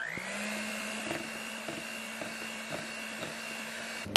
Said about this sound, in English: Now I'm just going to go ahead and mix all this together again.